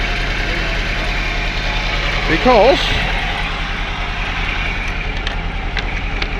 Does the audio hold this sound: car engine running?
yes